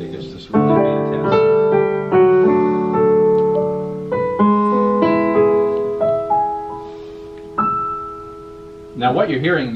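Kurzweil KAG-100 digital grand piano in polished ebony, played with a concert hall reverb effect: sustained chords and melody ring out with long tails, loud and close, ending in a brief burst of a different, noisier sound.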